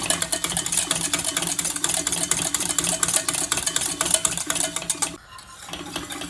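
Whisk beating a creamy milk sauce for scalloped potatoes in a pot, a fast steady rhythmic scraping and clinking close up, continuous until a brief pause near the end, with no talk.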